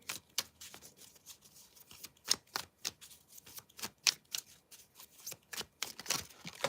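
Tarot cards being drawn and flicked from a deck in a series of quick, crisp slaps and riffles. The bursts come at an uneven rhythm, close but quiet, and there is no talking.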